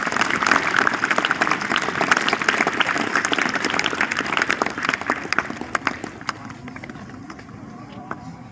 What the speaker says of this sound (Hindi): उन टीचर्स के लिए और म्यूजिक टीचर के लिए भी आप जोरदार तालियां बजाएं